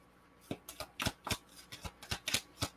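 Moonology Oracle cards are shuffled close by, a quick run of riffling flicks and soft slaps in an uneven rhythm, with no talking.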